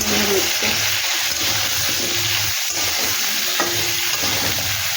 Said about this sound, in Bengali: মিশিয়ে নিয়ে এটাকেও একটু ভালো করে ভেজে নিই